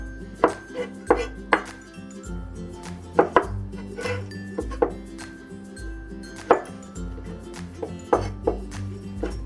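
A knife chops mushrooms into shreds on a cutting board for hot and sour soup, sharp rhythmic thuds landing in steady irregular strokes, close and clear without talk.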